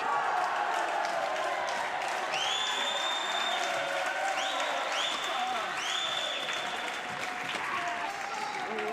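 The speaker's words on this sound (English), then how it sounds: "That cheer was from one of the other courts" A crowd cheers and applauds from another court at a Tokyo 2020 Paralympic badminton match, a sustained, fairly distant roar under a commentator's voice.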